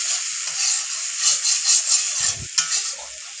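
Spice paste mixed with garlic paste sizzles steadily in a hot pan over high flame while a spatula stirs it, giving soft scraping strokes and a sharper knock, close and with no talk.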